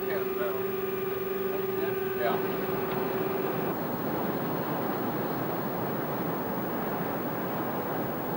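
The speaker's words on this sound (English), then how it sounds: "NASA's quiet engine, a new design from core out." NASA's quiet jet engine, a noise-reduction design built from the core out, runs in a demonstration with a steady, dense roar and a thin tonal whine that fades out partway through, continuous and fairly loud.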